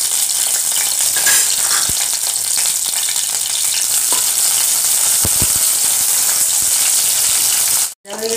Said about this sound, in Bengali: আগে নিম পাতাগুলো ভেজে নিচ্ছি।